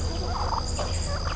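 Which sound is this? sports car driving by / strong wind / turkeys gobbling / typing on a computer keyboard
turkeys gobbling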